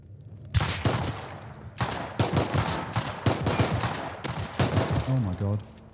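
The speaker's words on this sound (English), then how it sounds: "if I shoot in here, he's going to hear me shooting" Gun bursts in the survival shooter Rust, loud sharp shots fired in quick volleys with short pauses, close and echoing, a short beeping tone near the end.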